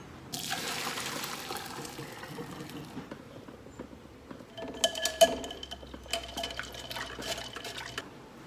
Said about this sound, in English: We're gonna strain it, and then we're gonna dump this in cold ice water to stop the cooking.